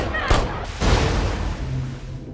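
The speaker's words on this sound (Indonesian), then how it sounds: "Mining lebih dulu melesatkan tembakan dan membuat Hood terpental ke dalam kolam." Two sharp gunshots ring out in an action film, each a loud cracking blast with a short decaying tail, followed by lingering low rumble.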